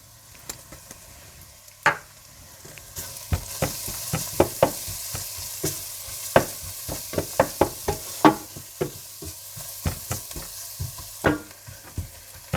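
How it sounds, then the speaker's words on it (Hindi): Turmeric, red chili powder, crushed red chilies and salt frying in a pan for sizzling okra, a continuous sizzle broken by many sharp knocks and scrapes of a spoon against the pan, close and with no talking. "हल्दी पाउडर, सुर्ख मिर्च पाउडर, कुटी हुई लाल मिर्चें और नमक डालकर थोड़ा सा भून लें"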